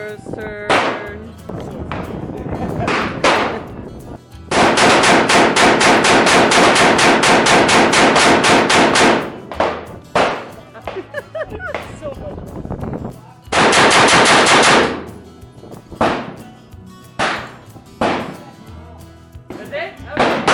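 Loud, rapid full-auto bursts of gunfire ring out at a shooting range, one long sustained volley and a shorter second burst, with people talking in between.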